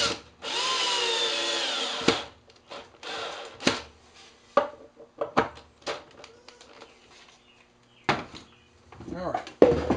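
Power drill driving screws into wood for a rocking horse build, a loud close whine in two-second bursts followed by clanks and handling knocks, with a person speaking between bursts.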